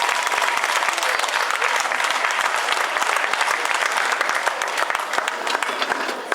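Steady, dense applause from a crowd at an awards ceremony for the 2015 Orthez rally, loud and continuous throughout with no pause.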